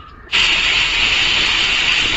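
A pressure cooker holding Kerala-style beef and koorka bursts into a loud, sharp steam release, then a continuous close hiss, after a quiet start.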